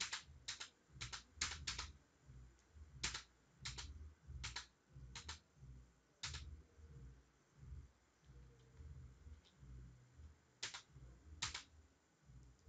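A search query is typed on a computer keyboard in quick bursts of close, crisp key clicks separated by short pauses, quiet and with no talking.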